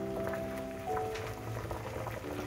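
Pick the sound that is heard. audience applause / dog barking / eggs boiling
eggs boiling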